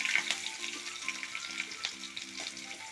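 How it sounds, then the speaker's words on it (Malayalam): Ginger, garlic and green chili sautéing in a pan for a sardine thoran, a steady close sizzle with faint stirring scrapes, no voices. "അതിലേക്ക് ഇഞ്ചി വെളുത്തുള്ളി പച്ചമുളക് അതിലേക്ക് ജസ്റ്റ് ഒന്ന് വഴറ്റിയതിന് ശേഷം"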